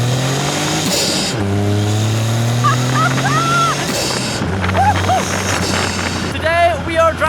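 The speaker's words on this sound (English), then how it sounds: "Today we are driving my home mountain in the Caterham." A Caterham 170S sports car with an 85 hp engine climbs a mountain road, its engine heard up close from the cockpit, revving up, dropping back at gear changes and rising again, with loud wind rush throughout.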